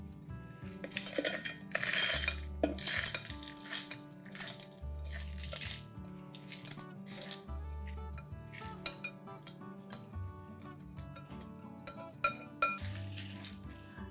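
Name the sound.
mixing Milagai Podi spice powder ingredients in a dish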